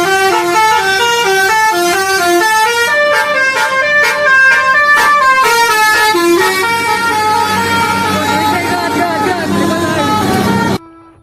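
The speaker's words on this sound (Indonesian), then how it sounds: "Wah, kali ini ada bus Persis Solo teman-teman." A loud, melodic multi-tone horn from a passing Persis Solo team bus plays a rapid tune of stepped notes, sounding continuously for about eleven seconds before cutting off abruptly.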